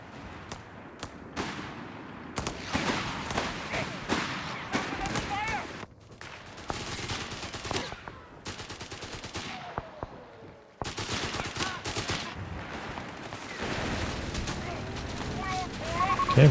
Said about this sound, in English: machine gun positioning works out well